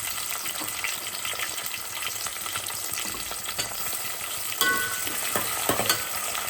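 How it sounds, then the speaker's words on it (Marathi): Onion and tomatoes frying in hot oil, a dense, continuous sizzle with crackles and a few stirring scrapes, close and fairly loud, no talking. "तेल गरम झाले, आता कांदा टाकून घेते."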